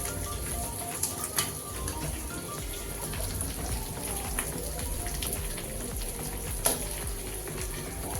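Bangda (mackerel) fish coated in semolina sizzling in hot oil in a home kitchen pan, a steady close crackle and hiss with occasional sharper pops, no talking.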